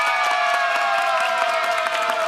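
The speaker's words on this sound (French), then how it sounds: "on va les applaudir très très fort" Audience at a French television game show applauding and cheering, dense rhythmic clapping with shouts and whoops, loud and sustained, with a tonal music bed underneath.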